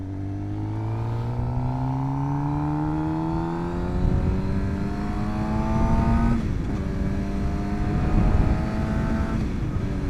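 A 2025 Suzuki GSX-R 750 motorcycle engine winds up in rising tones, then drops back sharply as it shifts and decelerates under engine braking, heard close and loud with repeated climbs and falls.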